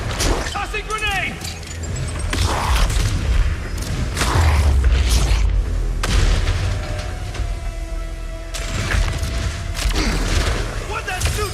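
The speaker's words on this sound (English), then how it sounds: "Tossing grenade!" Grenade blast in the video game Marvel's Spider-Man: heavy booming explosions and crashing debris, loud and close, with game character voices speaking over the action.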